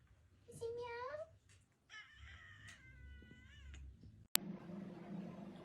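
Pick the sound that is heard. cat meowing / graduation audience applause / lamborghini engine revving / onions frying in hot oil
cat meowing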